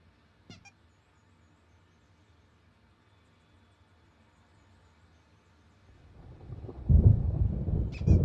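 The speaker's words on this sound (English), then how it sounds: "There's a storm coming. Oh, what a storm." Thunder in the video game Alan Wake Remastered: a faint crack early on, then a deep rolling rumble that swells loud near the end of a quiet stretch.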